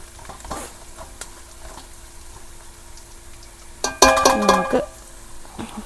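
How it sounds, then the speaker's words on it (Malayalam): Crab curry ingredients sautéing in a hot pan, a soft steady sizzle that swells into a loud, crackling burst of frying for about a second near the end, with no talking. "ഇത് നന്നായിട്ടൊന്ന് വഴണ്ട് വരട്ടെ."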